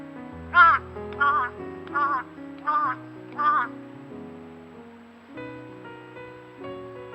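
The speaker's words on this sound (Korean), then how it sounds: "까마귀가 무리를 부르느라 소리 내다 보니" A crow caws five times in a steady rhythm, calling its flock in a snowy setting, loud and fairly near over a low background hum, followed by quieter ambient sound.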